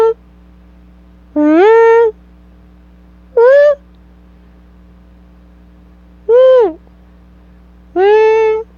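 A person's voice imitates trumpet-like sounds heard in the western evening sky, giving four separate drawn-out, tonal, wavering calls with quiet gaps between them over a low steady hum.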